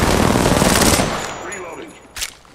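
Dense automatic gunfire in the video game Apex Legends, a loud sustained burst of rapid shots that stops after about a second, leaving a fading tail and one more distant crack.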